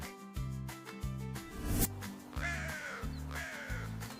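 Black crow cawing repeatedly in short harsh calls, about six evenly spaced caws close and loud over a steady low background tone.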